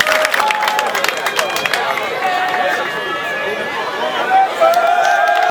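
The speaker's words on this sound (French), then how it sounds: "On applaudit très fort." Audience at a football cup ceremony applauding the prize winners, a steady wash of clapping and crowd chatter with shouts and a few whistles over it, voices talking throughout.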